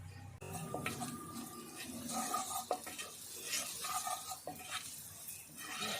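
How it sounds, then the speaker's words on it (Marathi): Red chilli powder and homemade garam masala get stir-fried in a pan for a crab sambar, with a soft sizzle under repeated metal spatula scrapes and clinks against the pan, close and quiet, no one talking. "पुन्हा व्यवस्थित असं परतून घेऊ"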